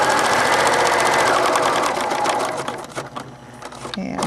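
A sewing machine stitches over the folded edge of quilt binding, a dense, steady whir of rapid needle strokes that runs close and loud for about two and a half seconds, then thins and slows toward the end.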